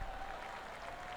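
Soft, distant golf gallery applause from the video game PGA 2K23, a brief faint patter of clapping that swells slightly and fades.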